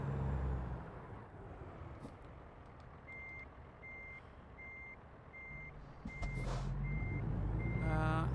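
A truck reversing in American Truck Simulator gives a steady run of evenly spaced beeps over a low engine rumble, with air brake hisses around them and the engine rising toward the end.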